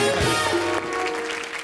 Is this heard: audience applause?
yes